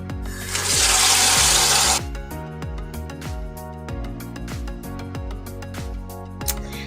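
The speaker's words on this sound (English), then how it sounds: "Now I'm going to bring them over to the sink" Eggs rinsed in a colander under a cold running tap in a kitchen sink: a loud, steady rush of water for about a second and a half, then drips and light rattling knocks as the flow stops.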